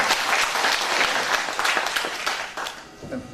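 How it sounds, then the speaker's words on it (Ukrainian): An audience at a Ukrainian Pokrova feast and UPA Day concert breaks into dense, steady applause that fills the hall, then thins out toward the end. "Оплески."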